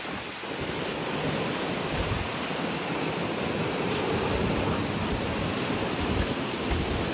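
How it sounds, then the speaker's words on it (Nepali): A fierce, steady gust of wind during a thunderstorm in Kurseong roars without pause, a loud, dense rush of air buffeting the microphone from start to end. "यस्तो डरलाग्दो हावा हुडी आइरहेको छ"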